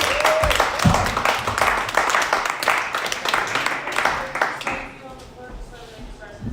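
Audience applause for a comedian at a stand-up comedy show, November 2019: a crowd's dense clapping with scattered cheers, loud and sustained for about five seconds, then fading quickly, with a voice speaking over it.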